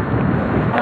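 Brief gust of outdoor wind buffeting the microphone on a windy day, a loud, rumbling rush with no voices.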